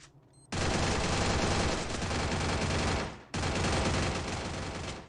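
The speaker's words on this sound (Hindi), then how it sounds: "लगातार लगातार स्नाइपर चलाए जा रहे हैं, चलाए जा रहे हैं" Sustained gunfire from a Free Fire clash squad match roars loudly and continuously, breaks off briefly, then resumes just as dense.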